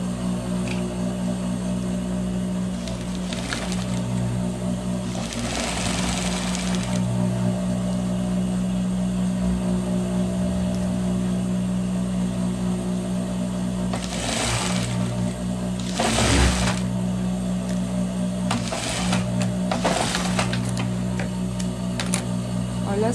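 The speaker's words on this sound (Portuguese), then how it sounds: "E aqui eu já vou passar a costura apertando." Sewing machine stitching the side seam of a lined vest, running in steady whirring bursts with brief pauses between them, close and fairly loud, with no talk over it.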